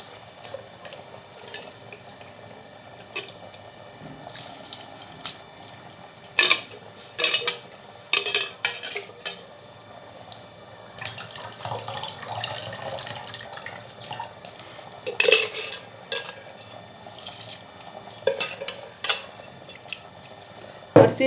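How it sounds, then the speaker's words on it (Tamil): Drained rice being added to a pot of mutton biryani and stirred: scattered metallic clinks and scrapes of a utensil against the pot, with soft wet shuffling and splashes over a low hiss of simmering. "அரிசி வந்து தண்ணி இல்லாமல் வடிகட்டிட்டு நம்ம அரிசி இதோடு சேர்த்துக்கலாம்"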